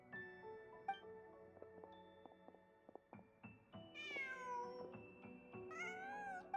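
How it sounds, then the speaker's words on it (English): A cat in a video game meows twice, rising and falling calls over a soft melodic musical backdrop, fairly close and clear with no speech. "Huh. Just a cat."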